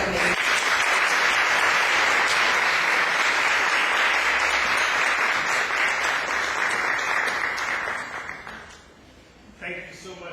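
An audience at a poetry seminar applauds to welcome a speaker, loud sustained clapping that fills the room for about eight seconds, then fades, and a voice begins to talk.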